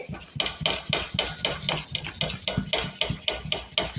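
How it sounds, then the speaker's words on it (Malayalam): Fermented idli batter being stirred in a vessel, a steady rhythmic series of close wet slaps and spoon scrapes, about two strokes per second, moderately loud with no talking. "പുളിച്ച മാവൊന്ന് ഇളക്കിയതാണ്"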